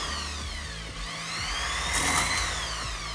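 A wood sanding machine runs briefly against spackle on a wall, giving a loud, continuous high-pitched whir with a rising pitch sweep and a brief harsher grinding burst near the end.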